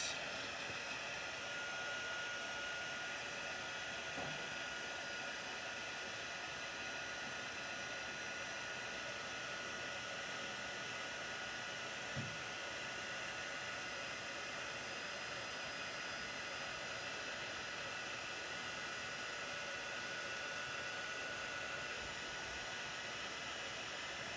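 Heat tool blowing hot air in a garage, a steady, even rushing hiss that runs unbroken and fairly close throughout, with no talk over it.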